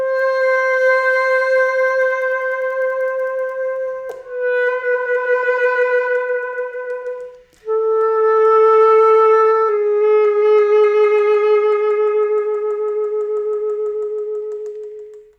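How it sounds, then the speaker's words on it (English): Bass clarinet playing a timbral trill, two fingerings rapidly alternating on one sustained pitch, shifting tone color without changing note; several held notes in a row, clear and close, with no talking. "you can also change the color of the same pitch and rapidly alternate two different fingerings to produce this pitch"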